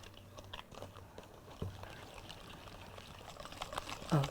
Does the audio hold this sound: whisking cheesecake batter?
yes